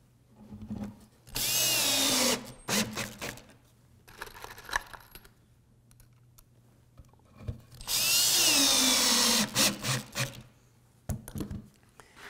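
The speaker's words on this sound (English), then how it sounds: "now I'm just going to screw it down" A power drill drives screws through the legs into a wooden puzzle-leg coffee table top in two long loud whirring bursts, separated by clicks, taps and handling knocks.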